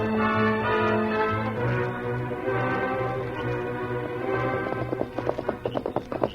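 Horses' hooves clip-clop in a radio drama sound effect, a steady rhythmic trot over a low background hum that turns into sharper, distinct hoof strikes toward the end.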